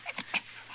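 A friendly dog being tended in a frontier town jail gives quick, breathy pants, three short puffs close to the ear, faint and unaccompanied by speech.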